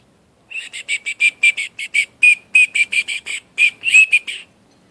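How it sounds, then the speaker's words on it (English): A whistle is blown in a rapid series of short, shrill, warbling toots, about twenty in a row, close and fairly loud. "you're going to blow on the whistle"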